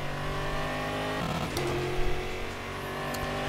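Stock Car V8 race car in the racing game GSCExtreme on the Taruma circuit, its engine droning steadily with a close, loud, buzzing tone and a slight shift in pitch as it accelerates.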